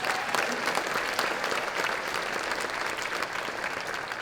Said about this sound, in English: let's have one more round of applause for our winners and our nominees